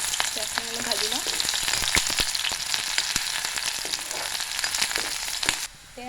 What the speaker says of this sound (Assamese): পিঁয়াজখিনি অলপ ভাজি লওঁ